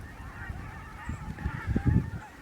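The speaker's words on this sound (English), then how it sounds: "There's a bunch of snow geese flying." A flock of snow geese honks in flight outdoors, a clamor of overlapping calls swelling louder toward the end, with no talk.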